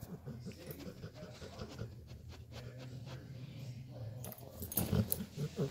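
A dog pants softly and rhythmically close by at a quiet level, with small jingling clinks near the end and a bit of talking in the background.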